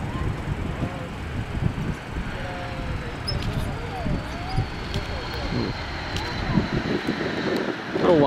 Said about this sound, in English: Wind's calmed down a little bit, but it's still extremely windy.